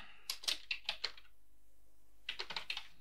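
Name being typed on a computer keyboard: two short bursts of quick, light key clicks close by, separated by a pause of silence.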